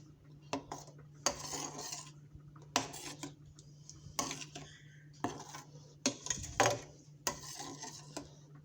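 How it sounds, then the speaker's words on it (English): A spoon scrapes and clanks around a pot of meatballs with Italian seasonings, giving repeated close, metallic stirring strokes at an irregular rhythm over a low steady hum. "Give it a good old stir."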